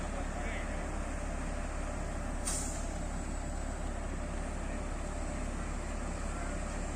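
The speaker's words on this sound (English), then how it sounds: "Another truck there." A truck at a construction site idles as a steady low rumble, with one short hiss of air brakes near the middle; faint talk sits under the engine noise.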